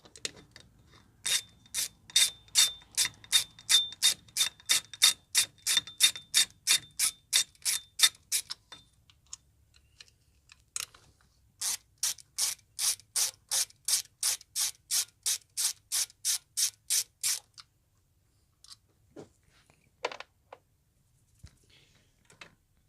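A ratchet undoes the 8mm bolts on either side of the intake cover of a Mazda engine. Fast, crisp clicking comes in two long close bursts, then a few scattered clicks and knocks, with no talk.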